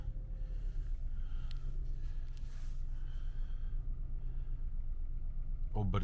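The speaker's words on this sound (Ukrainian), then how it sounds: "Двигун працює рівненько." A 2009 Kia Ceed with a 1.4 MPI petrol engine idles after starting, giving a steady, even low hum with quiet mechanical noise around it.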